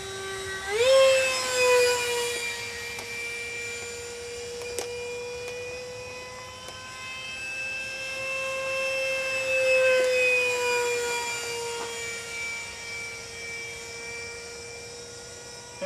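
A 70 mm electric ducted fan F-104 Starfighter model jet makes a low pass, its steady high-pitched whine and fan hiss swelling and holding loud for the full length, with no talking.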